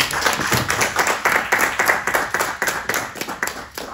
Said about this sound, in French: Les applaudissements.